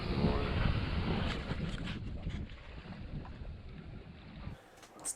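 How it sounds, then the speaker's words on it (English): A sailboat cruises on a broad reach in calm water off Koh Samui, Thailand, at about 4 to 5 knots, with a steady rushing wash of water and wind noise on the microphone that eases near the end. "We are cruising sort of on a broad reach. We're going around 4 to 5 knots."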